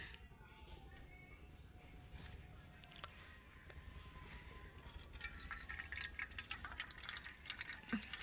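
Water trickles from a toy pitcher over potatoes during a children's pretend-cooking game, a soft steady pour that grows louder and splashier in the second half.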